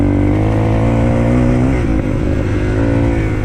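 A Shineray VXR 300 motorcycle on a test ride, its engine droning loud and close with a steady throb, rising slightly then settling, with no talk.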